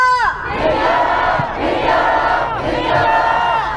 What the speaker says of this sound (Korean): 구호와 함성을 외치며 마무리하겠습니다